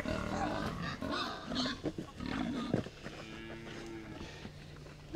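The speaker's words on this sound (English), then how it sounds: "Or a bunch of pigs." Pigs on a farm grunt and snort in a cluster of rough, close calls, with a few squeals and shuffling noises mixed in and brief voices in the background.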